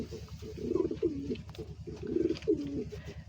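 A breeding pair of king pigeons gives repeated low, throaty coos in rolling bursts, close and clear, with a steady low hum underneath.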